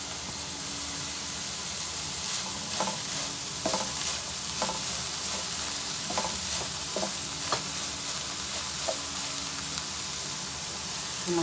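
Capsicum, cabbage and other vegetables sizzle and hiss steadily in a hot pan, with repeated scrapes and clacks of a spatula stirring them at close range and no voices.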